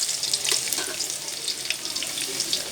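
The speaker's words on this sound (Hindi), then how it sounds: "यहाँ हमने 3/4 कप के करीब ऑयल गरम कर लिया है। उसमें हम डालेंगे ये 15 अदद लहसुन के जवे, बिल्कुल बारीक चॉप" About fifteen finely chopped garlic cloves sizzle steadily in roughly three-quarters of a cup of hot oil, a bright, close, continuous frying hiss with small pops.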